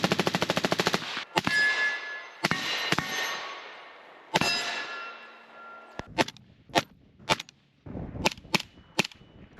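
Suppressed 9mm pistol shots through a B&T suppressor fitted with a 9mm end cap, a string of sharp, separate reports with ringing tails that come at uneven intervals, some widely spaced and some in quick succession.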